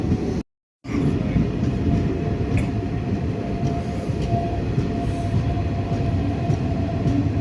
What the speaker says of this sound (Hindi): इस नई लाइन से हमारी ट्रेन रुड़की से देवबंद लगभग 28 मिनट के अंदर पहुंच जाती है